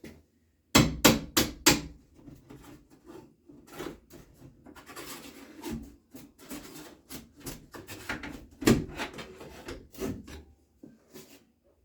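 Old wooden door casing being pried off with a pry bar, a burst of sharp cracking knocks near the start followed by scraping, rubbing and creaking wood, with further loud snaps and raps toward the end, close and with no talking.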